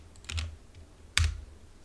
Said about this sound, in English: You can't see me typing.